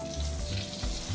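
Street food fries and gets stirred in a hot pan, a loud continuous sizzle with spatula scrapes, very close and brief, no voices.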